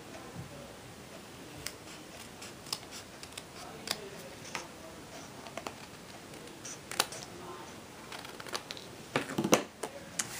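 Sharp scissor snips trimming a piece of vellum paper colored with distressed markers, heard as scattered crisp clicks and cuts, close and fairly quiet, with no talk over them.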